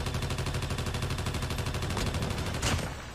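Rapid automatic fire from the AGR gun in COD Mobile, a fast, even stream of loud close shots running almost the entire moment before tailing off at the end.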